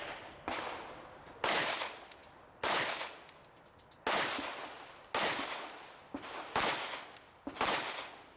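Pistol shots ring out at an IDPA shooting match at Mecklenburg Wildlife Club, about eight sharp reports spaced unevenly across the string, each with a ringing outdoor tail. Some shots come in quick pairs.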